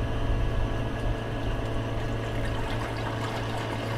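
Turbid, murky slurry of copper anode slime poured steadily through a screen into a bin, a continuous close wash of running liquid with a low watery rumble throughout and no voices.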